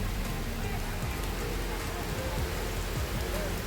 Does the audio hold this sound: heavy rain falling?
yes